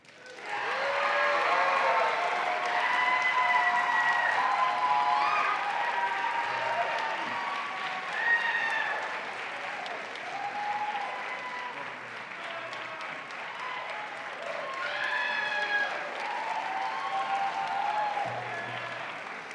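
Audience applause fills a hall at a college honors convocation after an outstanding pianist is named, a dense, sustained round of clapping that swells early, dips slightly and rises again, with scattered voices in the crowd.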